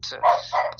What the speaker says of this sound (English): Excuse the barking, that's my little dog.